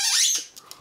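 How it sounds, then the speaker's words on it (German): A dog's squeaky toy gives one loud, high squeal up close, followed by a couple of faint softer squeaks. "Miko, wo ist denn dein Quietschi?"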